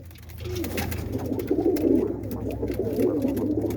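Several roller pigeons coo softly and continuously in a loft, their low throaty calls overlapping, with faint rustling and shuffling around them.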